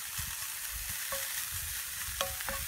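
French fries deep-frying outdoors in grease heated to about 350°F: a faint, steady bubbling hiss with a few small pops and clicks.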